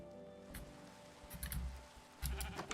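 A Minecraft sheep bleats several times in short repeated calls over a steady game background hum, in a snowy biome, fairly close and clear.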